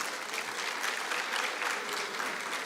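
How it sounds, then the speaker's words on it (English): An audience at a national oral history conference applauds in a steady, dense round of clapping that holds at an even level for the whole stretch, moderately quiet and without speech over it. "Can we just give them a round of applause?"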